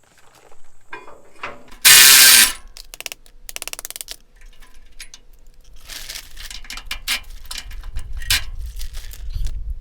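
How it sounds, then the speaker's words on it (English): A ratchet wrench removes the bolts holding the core support on a 1968 Chevy C10 truck, with sharp clicking ratchet bursts, metallic clanks and a loud rattle up close, plus scattered handling noise. "now we're going to take our 2 bolts out and take our core support off"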